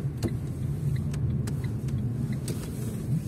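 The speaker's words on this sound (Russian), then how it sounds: "Машинка проедет, а мы подождем" A car rolls slowly past in a narrow one-lane residential courtyard, a low engine rumble holding steady nearby with a few faint clicks and knocks over it.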